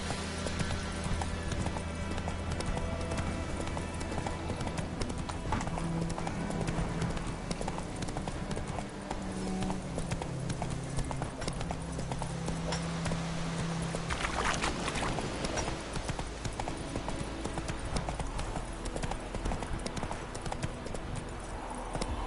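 Geralt's horse Roach galloping in The Witcher 3: Wild Hunt on PS4, a rapid, steady clip-clop of hooves running throughout over a dense bed of game ambience.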